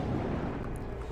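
The teapot cannon in the video game Alice Madness Returns fires, giving a heavy, sustained booming blast that fills the low end for the whole brief moment without any talk.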